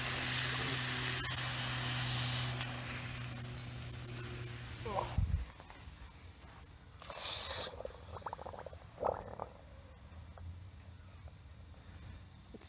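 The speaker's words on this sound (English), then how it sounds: "you can see right there where the ice did melt and turn into steam" Molten aluminium resting on a block of ice gives off a loud, steady sizzling hiss of steam that cuts off abruptly, leaving quieter crackles and faint pops afterward.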